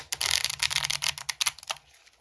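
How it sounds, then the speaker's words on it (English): A deck of game cards from a Twilight 2000 RPG core box being shuffled by hand, a quick run of dense riffling flutters and clicks, close and fairly quiet, with no talking. "Again, shuffle them up one more time."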